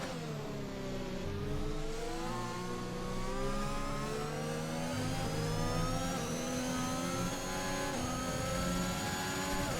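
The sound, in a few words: F1 2021 car engine revving, from a video game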